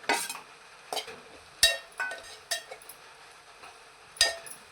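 Grated dry coconut roasting in ghee in a pan, with scattered short stirring scrapes and clinks over a soft, steady sizzle, close and moderately loud.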